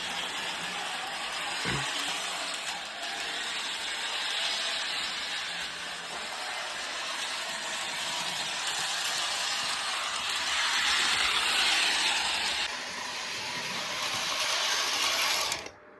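A Lionel O gauge Polar Express toy train runs on a large circle of track with a continuous mechanical whirring and clicking of small gears and wheels, steady and fairly close, briefly louder near the end before cutting off.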